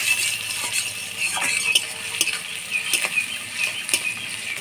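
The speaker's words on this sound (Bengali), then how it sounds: "এবার দিয়ে দিব পেঁয়াজ কুচি। পেঁয়াজটা একটু হালকা লাল লাল করে ভেজে নেব।" Chopped onions fry in hot oil with whole cumin, chili and bay leaf for a village-style Bengali jackfruit and prawn curry. A bright continuous sizzle runs throughout, broken by repeated scrape and stir strokes against the pan, close and with no voices.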